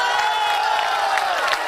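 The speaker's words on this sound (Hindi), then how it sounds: "इनके लिए भी ताली बजाओ जोर से भाई।" Rally crowd in Purulia clapping and cheering for a candidate, a dense steady roar of applause and voices filling the whole stretch at close range.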